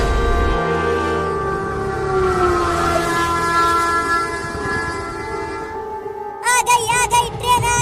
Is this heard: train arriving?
yes